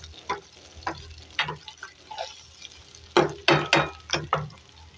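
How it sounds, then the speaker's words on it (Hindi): Onions sautéing in a pan for dal sizzle softly close by. The crackles come in repeated bursts, and spoon stirs and scrapes get louder and quicker toward the end. "अब प्याज को नरम करेंगे, सॉफ्ट करेंगे, जलाना नहीं है प्याज को"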